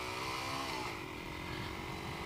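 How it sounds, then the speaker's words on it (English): A Lexmoto Tempest 125cc motorcycle's exhaust drones as the bike rides off, a steady engine tone whose pitch shifts slightly as it pulls away, heard fairly quietly with rumbling road noise underneath. "you can hear that amazing exhaust sound on this bike"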